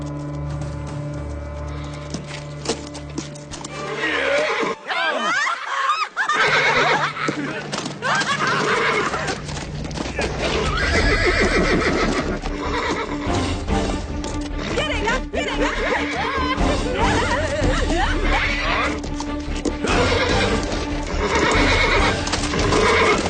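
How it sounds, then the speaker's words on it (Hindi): A horse neighs and whinnies repeatedly at close range, loud shrill calls over hoof clip-clops and busy background sound, with a brief drop-out partway through. "अरे ये घोड़ा पागल है क्या?"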